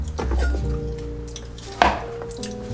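Knife working through vegan cheese on a cutting board, with a few sharp clinks and a firm chop against the board, close by and fairly loud, no talking.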